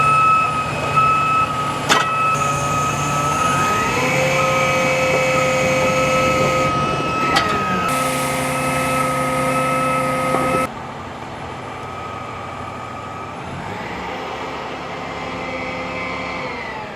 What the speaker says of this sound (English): What you just saw there was our ladder truck doing an evolution going up in the air.